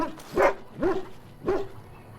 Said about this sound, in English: Who's the cute and adorable puppy?